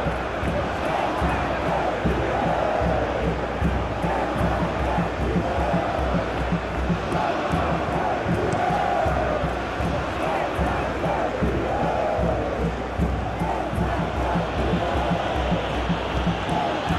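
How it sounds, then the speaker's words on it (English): A packed football stadium crowd at a South Korea versus Brazil World Cup final sends up a loud, sustained roar of appreciative cheering that carries evenly throughout. "at least the crowd are appreciative of his efforts"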